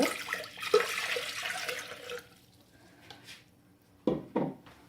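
Water pours steadily into a cooking pot to be boiled with sugar for a Ramadan recipe, a close rushing splash lasting about two seconds, followed by quieter pauses and two sharp clanks of the pot.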